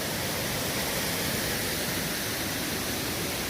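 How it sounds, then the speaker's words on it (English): Wolf Creek Falls roars close by as a steady, broadband rush of falling water, loud and unbroken with no voices. "And then, boom, another waterfall."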